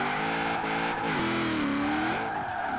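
An HVS GTSR drift car with a 1000 HP build in Forza Horizon 4 revs hard, its engine tone climbing and holding high with faint tire squeal, loud and continuous.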